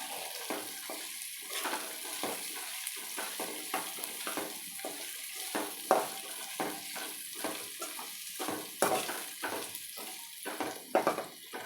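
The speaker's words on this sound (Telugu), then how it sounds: "టమాటాలు ఉడికాక క్యాప్సికమ్ ముక్కలు వేసుకోవాలి" Capsicum pieces frying with tomatoes in a pan, a close crackling sizzle broken by repeated rhythmic bursts of stirring and scraping.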